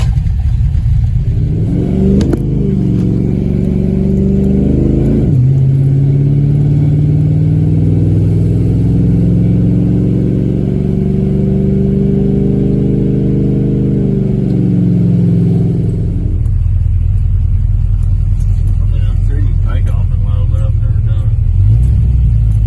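A 1963 Pontiac Star Chief engine cranks, catches and revs, then settles into a loud, close idle rumble with shifting pitch before dropping to a lower idle near the end.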